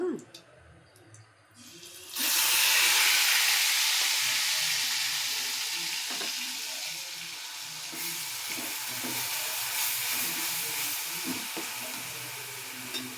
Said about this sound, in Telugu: ఈ ఉల్లిపాయ ఎండుమిరపకాయలు పేస్ట్ చేసాం కదండి, ఇది ఈ నూనెలో వేసేసుకోవాలి